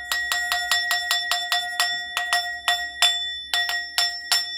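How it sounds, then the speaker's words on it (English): A small hand bell rings in a steady, rapid series of bright metallic strikes, about a dozen close, loud dings with brief pauses, heard alone without talk. "How am I going to ring my bell with my tambourine?"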